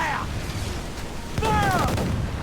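Ship cannon fire in Assassin's Creed 4 Black Flag, heavy booming blasts rolling over the sea, with a crewman's voice briefly shouting over the bombardment midway.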